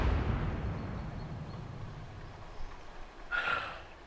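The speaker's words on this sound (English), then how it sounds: "Kunari dreadnoughts don't sink. They explode!" Qunari dreadnought exploding in the video game Dragon Age Inquisition, a heavy booming blast that rolls off into a long fading rumble, followed by a smaller crackling burst near the end.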